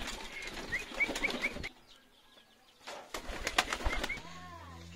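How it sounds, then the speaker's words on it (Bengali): Pigeons released outdoors to feed beat their wings in two short bursts of flapping, separated by a brief quiet gap, with soft coos close by. "সব কবুতরগুলোকে ছেড়ে দিলাম, খাবার দিয়ে দিয়েছি বাইরে।"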